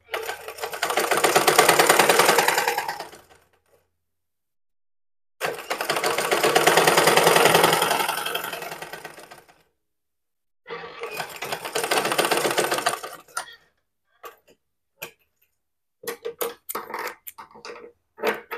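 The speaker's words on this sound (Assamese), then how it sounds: "এনেকৈ সমানকৈ চিলাই যাব" A sewing machine stitches a blouse seam in three long steady runs of rapid, even whirring, each a few seconds, then a string of short clicks and brief bursts as the fabric is adjusted; near and alone, with no talk.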